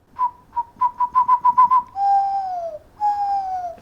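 A person whistles an imitation of a western screech owl call: a quick accelerating series of short even hoots, then two long descending cooing whistles, close and clear.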